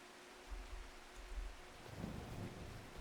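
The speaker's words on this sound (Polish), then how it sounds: "Co to tutaj? Deszcz?" Rain begins in Farming Simulator 25, a soft hiss of falling rain under low thunder-like rumbles that swell around the middle, with no voices.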